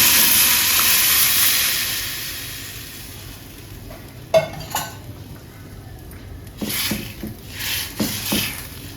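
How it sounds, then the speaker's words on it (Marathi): Lentils hit a hot tempering with asafoetida with a loud sizzle that fades over a couple of seconds, followed by scattered clinks and scrapes of stirring. "आता याच्यामध्ये डाळ टाकून घेते"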